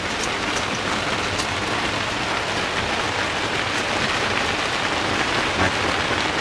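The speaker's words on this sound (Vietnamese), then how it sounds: "Trời đang mưa" Steady rain falls on an open rice field during a thunderstorm, a dense continuous hiss of drops close by with no voices.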